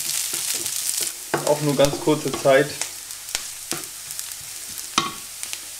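Figs stirred through a frying pan with a spoon, giving light scraping and sizzling sounds around a short stretch of speech.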